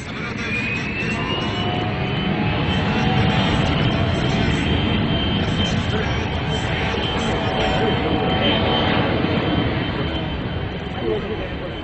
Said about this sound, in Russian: Амфибии, разработанные на ТРК имени Миреева, самолеты амфибии